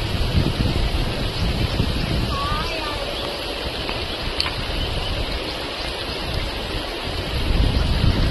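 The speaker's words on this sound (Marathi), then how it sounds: "पाहू शकता किती पाणी आहे सावथऱ्याच्या धबधब्यामध्ये." The Savathra waterfall roars with rushing water, a loud, dense, unbroken wash of spray that fills the whole scene, with faint voices briefly audible beneath it.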